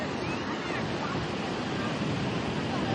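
Sea waves at Shrivardhan beach make a steady, broad surf roar. The sound stays constant across the clip, with some wind buffeting the microphone.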